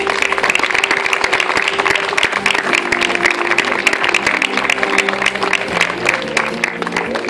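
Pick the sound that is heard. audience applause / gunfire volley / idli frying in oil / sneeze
audience applause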